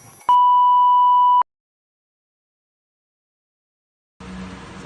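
An alarm set at night to wake early gives a single loud, pure electronic beep about a second long, followed by silence.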